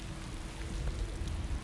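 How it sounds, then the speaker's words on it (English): Steady low rain noise from The Haunted Mansion on PS2, a dense, continuous wash that holds even and unbroken for the whole short stretch, with no voices over it. "Oh, that rain effect is god awful"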